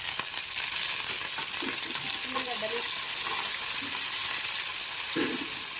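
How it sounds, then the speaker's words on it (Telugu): Curry leaves dropped into hot oil with chillies in a pan, a faint, steady fizzing sizzle with a few soft crackles, fairly quiet and without talk. "ఇప్పుడు కరివేపాకు వేస్తున్నాం"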